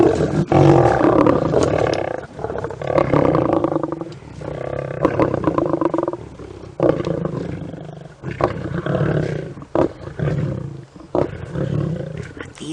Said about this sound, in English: I was hoping that the male would start to roar to hear the rest of the Birmingham boys.